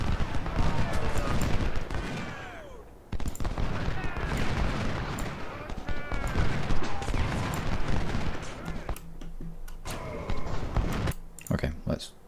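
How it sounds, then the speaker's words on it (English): 10-pound ordnance cannons fire across a Civil War battlefield in the Ultimate General: Civil War game, rapid booming volleys and crackling shots layered with battle noise while voices talk over it. "They must be the 10-pound ordnance cannons that have the longer range."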